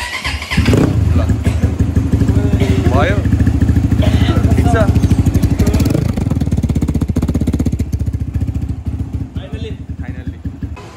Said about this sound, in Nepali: इन्जिन बनाएर स्टार्ट गर्न लगाइरहेको छौँ